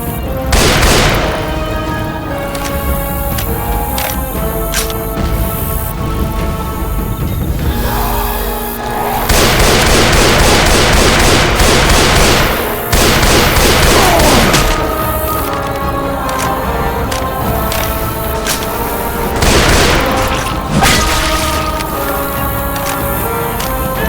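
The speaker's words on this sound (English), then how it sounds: "a clip of us encountering a tank and proceeding to snipe the living creep out of it" Heavy sniper rifle shots fired at the Tank in Left 4 Dead 2, loud booming reports at irregular intervals over a dense, continuous game soundscape.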